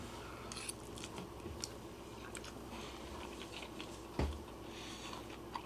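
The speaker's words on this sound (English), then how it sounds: "the beef in this, because it hasn't absorbed all the water yet, it's got a little crunch to it" Crunchy chewing on freeze-dried Beijing beef noodles, the rehydrating beef still firm, with soft irregular bites and crunches close up over a steady background hiss and one sharper crunch near the end.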